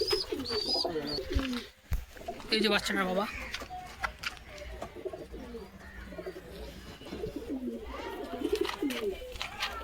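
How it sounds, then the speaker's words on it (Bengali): Pigeons coo repeatedly in a loft, close by and continuous, while a person talks over them throughout. "খুবই রাগি একটা পায়রা।"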